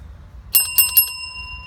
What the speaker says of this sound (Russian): Вот так звенит необработанный. Очень звонко, громко.